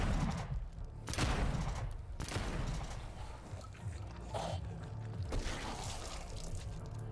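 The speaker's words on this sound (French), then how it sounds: "un petit coup de fusil à pompe" Pump-action shotgun blasts fired in the zombie game Dead Island 2 (Haus DLC), several loud booming shots spaced unevenly over a busy layer of game noise.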